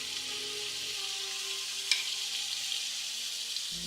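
Shrimp sizzle and fry in a hot pan for a home-cooked shrimp ramen bowl, a steady, loud hiss throughout with a faint crackle near the middle and no talking.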